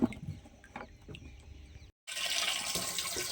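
Water runs from a borewell into containers, a splashing flow that drops to silence briefly and then returns as a loud, steady hissing gush close by.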